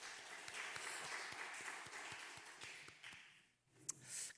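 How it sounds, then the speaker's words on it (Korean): A church congregation applauding at a Wednesday worship service, a soft, distant wash of many hands clapping that thins out and stops, followed by a few faint scattered claps. "축복하고 격려하는 박수 하도록 합니다"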